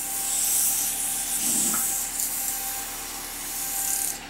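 Sanding a turned wooden bottle stopper: a steady, close abrasive rubbing hiss that runs the full length with slight swells, no voices.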